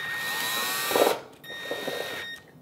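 Power driver setting Phillips head screws to secure a replacement burner switch on an electric range, two short close whirring runs separated by a pause.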